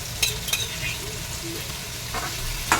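Frying with steady sizzle in a pan while vegetables get stirred, with a few sharp scrapes of a utensil against the pan and no talking.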